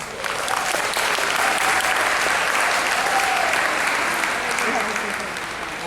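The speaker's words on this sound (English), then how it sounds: "A larger round of applause for that." Applause from a conference audience honoring caregivers, steady and full throughout, with a few voices mixed in beneath the clapping.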